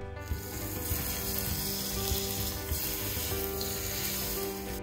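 Hot oil poured over steamed fish topped with ginger and green onions, giving a loud, steady crackling sizzle that runs without a break through the whole stretch, close and alone with no voices.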